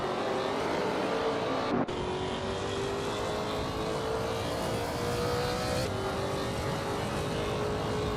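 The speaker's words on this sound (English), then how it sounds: "Flanky Frankie's car is a 2001 Mercedes-Benz CLK55 AMG." A 2001 Mercedes-Benz CLK55 AMG race car engine in a racing video game drones steadily at high revs, pitch climbing slowly with a sharp gear-shift break early on, loud and continuous without talk.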